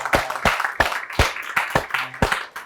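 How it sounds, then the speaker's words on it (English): A standing audience at a talk on teaching Judaism in China gives a round of applause: sharp, fairly rhythmic claps repeating about three times a second, close and clear. "a special round of applause"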